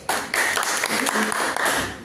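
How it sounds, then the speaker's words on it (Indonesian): Applause from a group of people at a university microteaching competition in Kupang, Indonesia, a steady burst of clapping lasting a couple of seconds with some voices mixed in. "Kita berikan tepuk tangan kepada kelompok 1 dulu."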